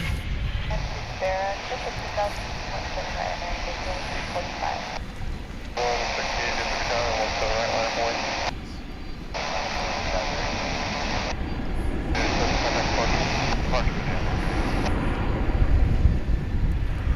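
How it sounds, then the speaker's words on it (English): An American Airlines A321 airliner at DFW airport roars loudly and steadily from start to finish, a broad engine rush that swells slightly toward the end, with radio or talk layered underneath. "That there is American Flight 2697 and A321 on its way to the City of Angels"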